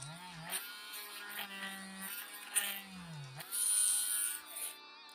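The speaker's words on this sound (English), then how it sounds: "we're going to take the Dremel and doing the holes that's in his wings" A Dremel rotary tool runs at high pitch while drilling holes in a figure's wings, with a faint buzz that wavers in speed. Short bursts come and go, and there is a louder stretch near the end.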